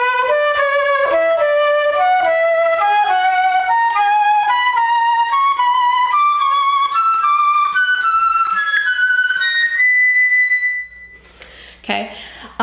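A flute plays an ascending exercise of scales in thirds with a long-short dotted rhythm, clear, close and steady, each note stepping upward before a brief pause and soft noise at the end.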